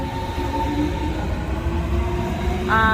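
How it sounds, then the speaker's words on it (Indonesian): An S-Bahn commuter train in Berlin rolls by with a loud, steady rumble and sustained tonal whine, while a higher multi-tone horn or brake squeal joins in near the end. "Ini merupakan S-Bahn, yaitu S-Bahn itu seperti kereta ya."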